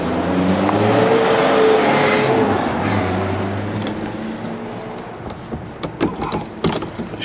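A Ford Thunderbird engine rumbles loud and steady, then settles to a lower, quieter idle, with a few sharp clicks and knocks near the end.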